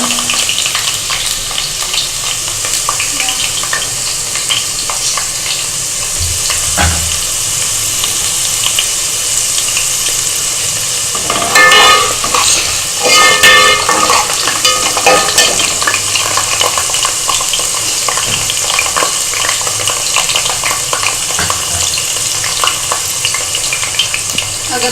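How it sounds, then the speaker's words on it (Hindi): Besan noodles fry lightly in hot oil with a steady, bright sizzle throughout, broken midway by louder crackling bursts as they are stirred in the pan. "अब मैं इन्हें फ्राई करूँगी।"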